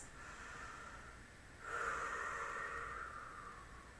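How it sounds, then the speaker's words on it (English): Deep breathing held in a strong yoga pose: a quiet breath followed by a fuller, rushing exhale that starts midway and slowly tapers off, close and alone against faint room noise. "Deep breaths."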